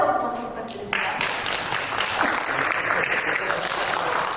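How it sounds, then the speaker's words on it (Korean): A film festival audience at a post-screening talk applauds a new actor, a brief voice giving way to loud, sustained, dense clapping that holds steady to the end. "다시 한번 박수 부탁드립니다"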